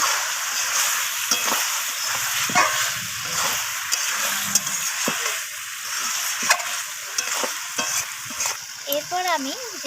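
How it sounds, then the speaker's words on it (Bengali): Chicken sautéing in a pan after salt is added, a steady close sizzle with scraping and stirring knocks throughout, plus a brief higher squeaky sound near the end. "তো লবণটা দিয়ে আমি আবারও কষিয়ে নিচ্ছি।"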